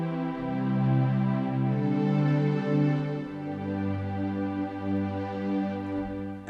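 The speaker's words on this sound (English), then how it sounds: "I've got some synth strings which sound like this" Synth strings patch on a Korg Pa5x arranger keyboard, smooth sustained string chords shifting through a slow progression, full and warm, played alone with no talking.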